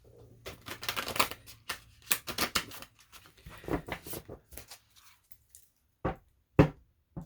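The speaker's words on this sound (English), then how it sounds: "I'm going to give it one quick shuffle." Several bursts of oracle cards being shuffled and riffled, crisp papery flutters with short pauses between, close and fairly quiet.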